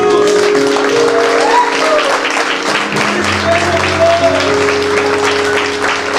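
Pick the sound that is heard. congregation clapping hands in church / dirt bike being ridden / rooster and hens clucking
congregation clapping hands in church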